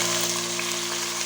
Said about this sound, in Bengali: পেঁয়াজটা ছাড়লাম।